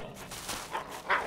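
Dogs bark in the Survival: Fountain of Youth video game, with a few short, mid-loud yips and barks scattered across a brief stretch of combat ambience and no talk over them.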